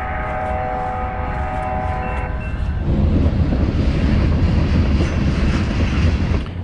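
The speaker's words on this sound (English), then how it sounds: "The train, boss. Trains kill, folks." A train rumbles past close by at the Edmonds Fishing Pier, its horn sounding at first, then a loud steady roar of wheels on rails.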